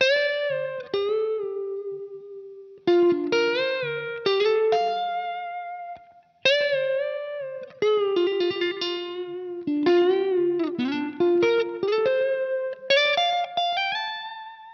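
Electric guitar playing a solo phrase with hammer-ons, sustained bending notes and smooth slides, in several short bursts separated by brief pauses.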